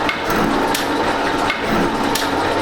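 A metal shaper cutting tough steel with a cheap Chinese tool bit gives a loud, steady grinding drone with periodic sharp knocks at each stroke, close up and alone.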